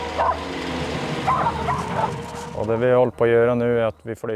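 Herding dogs working reindeer on a spring migration in Sweden give a run of loud, close yelping barks and whines near the end, after a noisy stretch that seems to include a voice.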